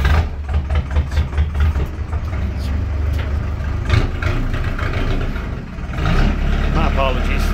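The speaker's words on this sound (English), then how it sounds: "This is a Caterpillar A series engine." A Caterpillar 3406A A-series diesel engine in a big rig at a junkyard idles with a steady low rumble, close and loud, while people talk over it.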